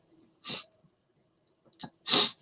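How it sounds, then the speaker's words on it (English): Two sharp sneezes close up, with a short sniff between them, brought on by spicy food. "I think I'm going to sneeze."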